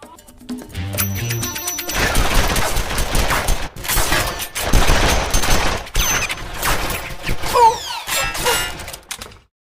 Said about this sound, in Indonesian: Karena kehebatan John dalam menembak, tak seorang pun dapat lolos dari tembakannya.